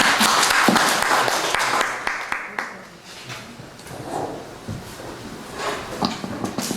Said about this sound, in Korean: 일단 박수로 좀 맞아주시죠.